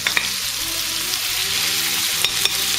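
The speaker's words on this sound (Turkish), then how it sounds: "Biraz eridikten sonra da rendelediğimiz soğanı basıyoruz." Grated onion fries in melted fat in a pan, giving a loud, continuous sizzle with a few light clicks from stirring and no voices.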